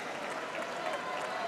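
Tennis crowd at the Australian Open applauding in a dense, even patter of clapping that holds steady throughout the short stretch.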